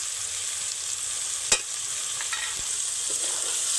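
Cauliflower fries with cumin powder in a pan under a steady, loud sizzle, while a spoon stirs it with a few scraping knocks against the pan.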